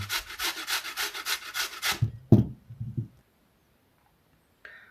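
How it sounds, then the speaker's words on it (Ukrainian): Raw potato rubbed on a fine grater, a rapid run of close, regular rasping strokes for about two seconds, followed by a few softer knocks and scrapes before falling silent. "взяти її, натерти на дрібній такій терці. Отак, беремо, натираємо картопельку нашу"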